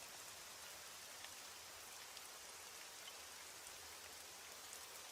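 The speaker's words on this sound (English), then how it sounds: "As the rain falls and the night deepens" Steady rain falls at night, a dense even hiss of drops that continues unbroken and fairly quiet throughout, with no voices.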